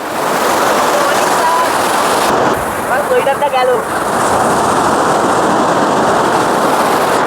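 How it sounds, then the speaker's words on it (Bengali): Loud, continuous surf roars as big waves break on the shore at New Digha beach, with a brief voice rising over the crash midway through. "এখন শুধু ঢেউগুলো আসছে দেখো শুধু আসছে দেখো"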